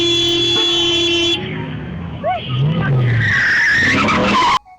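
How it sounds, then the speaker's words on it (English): Car tires screeching loudly on hot tarmac in busy Lagos street traffic, a drawn-out skid mixed with horns and road noise that cuts off abruptly at the end. "tires screeched across sun-baked tar"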